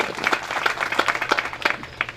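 Audience applause at a Hindi poetry gathering during a temple consecration festival in a village, a brief burst of clapping with irregular claps from a modest crowd, moderately loud and close.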